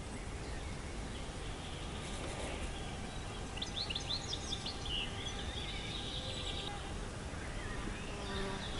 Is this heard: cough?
no